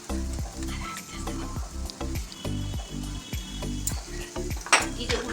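A spatula stirs pea kochuri filling in a pan with cumin and chili powder, scraping in quick rhythmic strokes about twice a second over a faint sizzle, close up.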